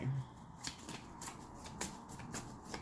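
A deck of tarot cards shuffled by hand, with a run of quick riffling flutters in a steady rhythm, close and quiet, and some faint talk alongside.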